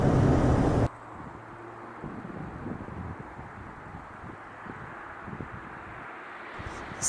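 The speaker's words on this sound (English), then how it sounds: "It's very windy." Wind gusts heavily against the microphone at first in Smugglers Notch, Vermont, then settles into a steady outdoor rush with faint rustling and scattered knocks.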